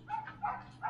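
A dog in a backyard gives three quick, moderately faint barks in less than a second, with no talk over them.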